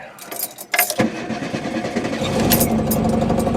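A small vehicle's engine cranks and catches, then settles into a steady close idle after a short clatter that sounds like keys.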